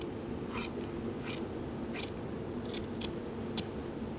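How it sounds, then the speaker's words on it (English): Scissors snipping through leather to make a relief cut on a Stickley-style ottoman during upholstery work, a few short crisp cuts over steady low room noise, no talk. "you'll make a relief cut right in here at a 45-degree angle, and you'll cut down to about within a ½ inch of the leg"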